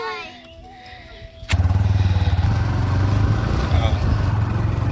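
A motorcycle ridden out to the market for shopping: after a quiet, faint opening, the engine kicks in about a second and a half later and holds a loud, steady, close-up drone for the rest of the ride.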